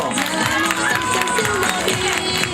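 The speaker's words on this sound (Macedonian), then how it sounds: "Ајде еден аплауз да видиме." A kindergarten event audience applauds and cheers for the children, steady crowd clapping and cheering with voices and some background music throughout.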